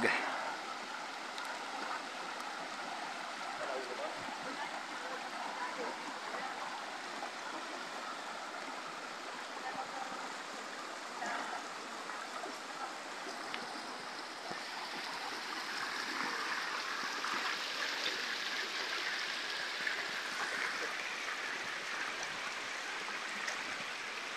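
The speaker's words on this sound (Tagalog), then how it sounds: "Sa tabing ilog." A river stream flows steadily beside a riverside picnic, a soft continuous rush and gurgle that holds at an even level throughout and swells slightly toward the end.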